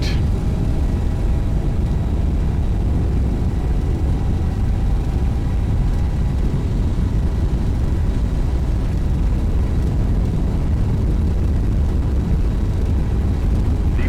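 Zibo Boeing 737 jet engines at takeoff thrust in X-Plane 11 produce a loud, steady, broadband roar that holds constant throughout, with no talking.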